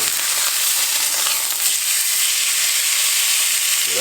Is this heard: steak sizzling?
yes